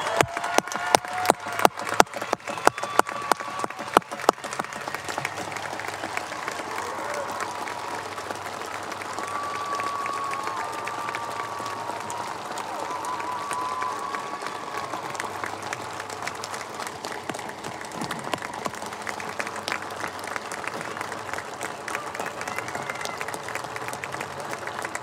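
Sustained applause from a large crowd at a high school commencement ceremony, steady and dense throughout, with a few louder individual claps near the start and faint murmuring mixed in.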